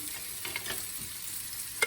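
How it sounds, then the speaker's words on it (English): A steady, quiet sizzle of onions and garlic frying in olive oil in a pan, with a few soft scrapes of stirring and a brief clink near the end. "I've just turned on the onions and garlic."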